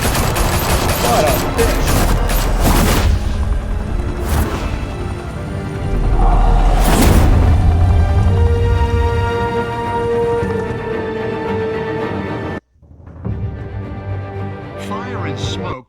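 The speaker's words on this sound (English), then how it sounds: "Open fire!" Shootout gunfire in the Telltale Batman video game, with heavy bursts of automatic fire and scattered single shots over several seconds, loud and close, mixed with speech and a dramatic game score.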